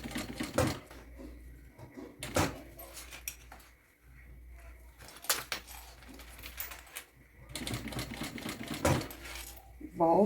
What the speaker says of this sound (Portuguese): encaixei e vou costurar fazendo o X